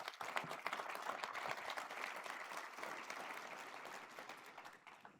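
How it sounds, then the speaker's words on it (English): Crowd applause at a university state-of-the-university address, many hands clapping at once, strong at the start then gradually fading toward the end, heard at moderate distance. "So how about a round of applause for the work that they've been doing?"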